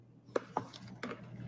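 Crunching bites of a frozen M&M and caramel dessert with sauce, heard as two sharp close crunches followed by a longer crackling chew, with no talk.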